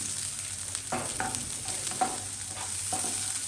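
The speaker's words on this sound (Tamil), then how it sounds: "அதை ஒரு 2 நிமிஷம் ஃப்ரை பண்ணுங்கள்." Onion sizzles softly in a hot pan while a utensil stirs and scrapes a few times, close by and fairly quiet, while frying for chilli garlic tofu.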